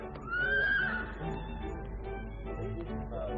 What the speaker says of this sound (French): Oui, 3 beaux chevaux noirs qui grandirent là sous mes yeux, scellés, harnachés,